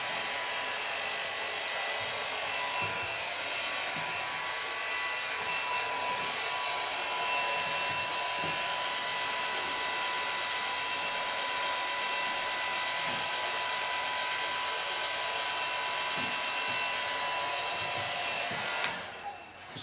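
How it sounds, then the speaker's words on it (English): Hair dryer blowing continuously on permed curly hair, a loud steady whoosh that runs nearly twenty seconds with faint handling bumps, then cuts off abruptly at the end. "So far blow drying"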